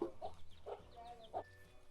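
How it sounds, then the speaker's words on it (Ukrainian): Chickens cluck in short soft bursts, a few quick calls close by against a faint background hum. "А це от курчата."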